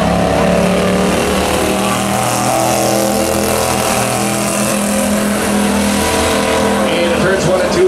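Slingshot race cars launch together at the start of a race at Buffalo River Race Park, a loud, continuous roar of several engines revving hard, with an announcer talking over them.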